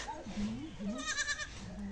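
Goats bleat on a small farm, short wavering calls rising and falling close by, with people talking over and between them.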